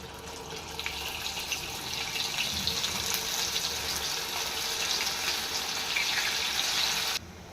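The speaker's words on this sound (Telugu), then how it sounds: "వేగుతున్నాయి కదా, ఇలాంటప్పుడు రెండో వైపు కూడా మనం తిప్పుకుందాం." Punugulu fritter batter dropped in hot oil sizzles and crackles in a steady, dense hiss that stays loud and close throughout, then cuts off abruptly near the end.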